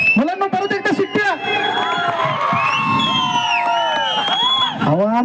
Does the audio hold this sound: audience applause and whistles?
yes